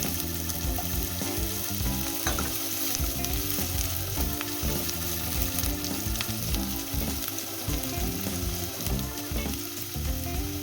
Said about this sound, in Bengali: রসুনটা লাল লাল হয়ে গেছে, এবার পেঁয়াজ আর কাঁচা লঙ্কা দিয়ে দিলাম।